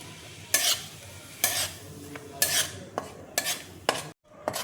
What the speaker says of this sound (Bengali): টমেটোটা দেখো একটু আমি ভেজে নিলাম